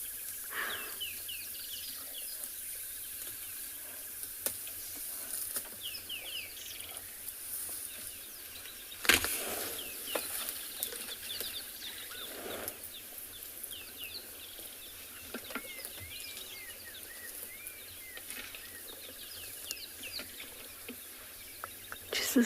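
On a morning safari in South Africa, birds chirp and call near and far against a quiet bush background, with an occasional thud or rustle from elephants feeding.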